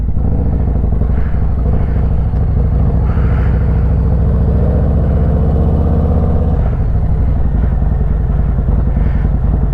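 A motorcycle with a Khrome exhaust runs close by, a loud, deep rumbling idle with throttle blips around the middle that swell and fall back into a steady burbling throb.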